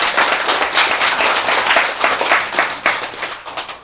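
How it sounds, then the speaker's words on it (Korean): Applause and clapping from a church congregation at a sermon on forgiveness, a dense, steady patter of many hands lasting a few seconds with no talking. "네, 박수."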